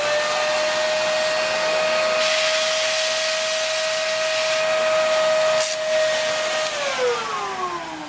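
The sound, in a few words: vacuum cleaner running with hose attachment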